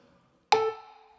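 A short, sharp musical note is played as an eighth note in a children's rhythm lesson, striking suddenly after silence with a bright attack and fading quickly, alone with no talking.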